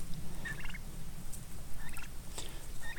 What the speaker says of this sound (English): here's my 2 turkeys. Tom and this is his wife.